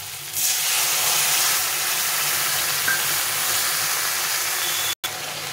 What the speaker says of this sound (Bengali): এখন আমি এই মশলার পেস্টটা দিয়ে দেবো।